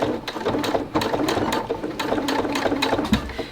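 A sewing machine runs a row of top stitching on a fabric face mask, a steady rapid mechanical clatter of needle strokes, close and continuous without talk.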